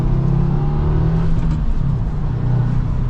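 A 2024 Subaru WRX TR pulls away and accelerates, a steady mid-pitched engine drone with rising revs and road rumble throughout, fairly loud and close.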